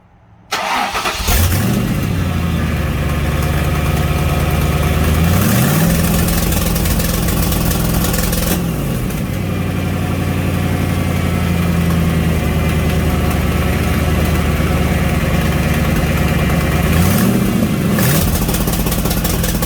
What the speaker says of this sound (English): let's try the two-step